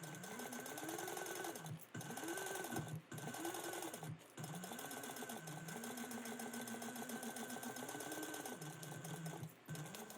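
A sewing machine basting a bag seam hums continuously at close range, its motor pitch rising and dipping in repeated short runs with a few brief breaks between them.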